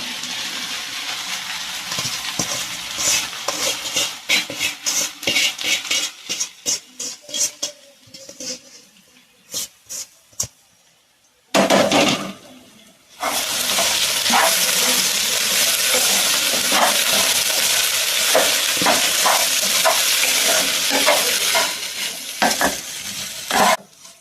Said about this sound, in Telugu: మనం మరమరాలు వేసుకుందాము